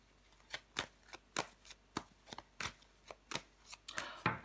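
Tarot cards being shuffled by hand: a quick series of soft, papery riffles and slaps in an uneven rhythm, close and quiet, with no talking.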